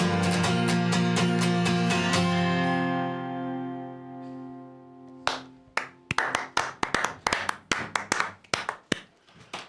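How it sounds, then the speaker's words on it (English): A musical chord rings out and fades at the end of a song, then a small audience gives thin, sparse applause, a handful of distinct claps close by. "I know you're used to getting a little bit more applause than that"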